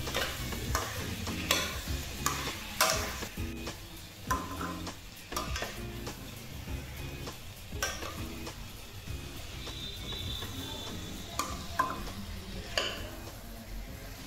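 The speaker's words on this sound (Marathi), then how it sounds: "आलू, शिमला मिर्च, गाजर, कच्चे हिरवे वाटाणे टाकून घेणार आहोत आणि व्यवस्थित आता ते हलवून घेणार आहोत।" Potatoes, capsicum, carrots and raw green peas sizzle in a pan for a quick pav bhaji while a spoon stirs them in steady scraping strokes, close and continuous, with occasional knocks against the pan and no talk.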